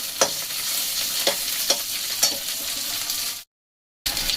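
Fish heads and onions frying together in a pan, a steady close sizzle punctuated by four evenly spaced sharp scrapes of a spatula, then a brief cut to silence before the frying resumes.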